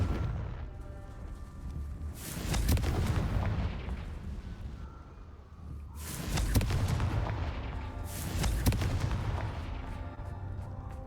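Confringo fire spells burst in the Hogwarts Legacy video game. Three heavy booming blasts land a few seconds apart, each with a crackling tail and a rumbling aftermath. There is no talking.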